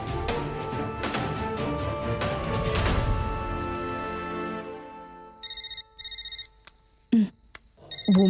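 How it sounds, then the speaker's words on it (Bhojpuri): A telephone rings late at night in a home, sounding as a few repeated electronic ringtone bursts after a fading musical passage, clear and close, followed by brief louder knocks or clicks. "भूमि के फोन।"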